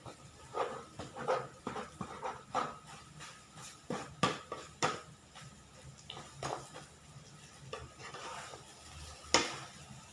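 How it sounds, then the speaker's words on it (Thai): Noodles are stir-fried in an iron wok, with repeated scraping and tossing strokes in an irregular rhythm over a faint sizzle, close and moderately loud. "มันก็จะเริ่มแห้งแล้วก็จะผัดจนมันแห้ง"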